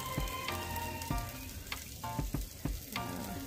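Chicken with masala and salt frying in a clay pot for biryani, a steady close sizzle broken by repeated scraping and stirring knocks.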